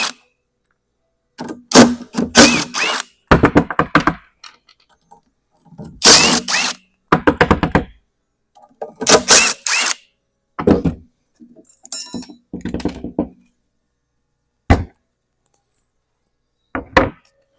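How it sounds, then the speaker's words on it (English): On a 1981 Moto-Ski Mirage snowmobile, the fan is taken off with a series of loud, close ratcheting bursts and knocking clatters, grouped in irregular runs with short silent pauses between them. "Now I'm going to take the fan off."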